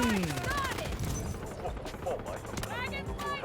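MK4 rifle fire in Delta Force, with short bursts of sharp shots scattered across the span, mixed with game music, footsteps and other effects, loud and close.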